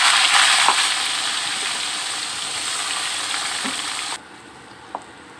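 Teri anchovies fry in a pan with a steady, close broadband sizzle and spatter that runs for about four seconds, then drops to a much quieter background with a single small clink near the end.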